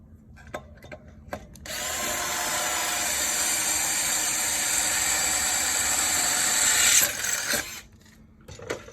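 A power drill whirs steadily for several seconds while drilling holes in a Kizen mitre fence, preceded by a few short bursts, then winds down and stops; close and fairly loud.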